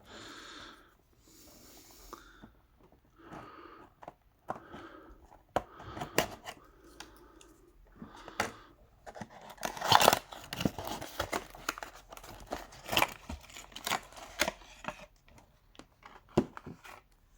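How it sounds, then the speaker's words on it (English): Sticky tape is peeled and picked off twisty puzzle packaging, with close, irregular crinkling, tearing and plastic rustles that grow busier in the latter half. "we've got sticky tape to undo on this"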